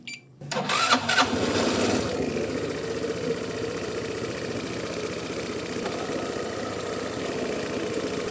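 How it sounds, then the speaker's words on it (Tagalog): A motorcycle engine with a recently flat battery cranks and catches after a couple of quick bursts, then settles into a steady, close idle that runs on evenly. "Okay, start natin yung motor."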